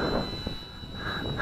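A small XK DHC-2 A600 RC airplane flies outdoors, its faint high electric motor whine steady and distant under light wind noise.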